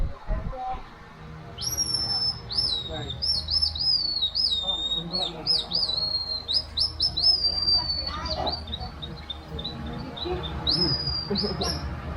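High, sliding bird calls imitated on a bird whistle repeat in quick bursts, with a brief talking voice beneath and steady outdoor background noise, in a tribal village in Palawan.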